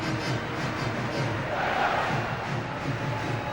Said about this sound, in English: Good crowd underneath the south stand. They've been in good voice singing their songs